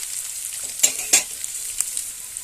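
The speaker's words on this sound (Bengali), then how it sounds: "আদা বাটা দিয়ে আমি সব একসঙ্গে মশলা একটু তেলের সঙ্গে ভেজে নেব" Fried onions with ginger paste and spices cooking in oil, a soft steady sizzle broken by a few sharp scrapes of a spoon stirring, no speech.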